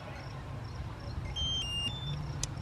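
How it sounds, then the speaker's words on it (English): Global Link Ultra E Pro electronic keyless lock on an RV door giving a short run of faint, high electronic confirmation beeps over a low steady background hum. "a different sequence of beeps to indicate that it's good to go"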